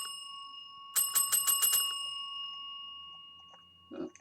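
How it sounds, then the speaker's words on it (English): A motel reception desk bell in the Second Life game is struck about six times in a quick run, bright metallic dings over a faint steady hum, followed by a soft thud. "Let's ring the bell."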